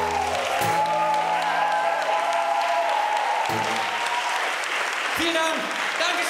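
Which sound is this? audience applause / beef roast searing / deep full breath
audience applause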